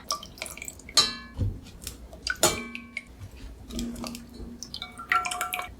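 Water drips and trickles off boiled pork belly as it is lifted from a pot in a kitchen, giving scattered light splashes and clinks of cookware, close by and irregular, with no talking.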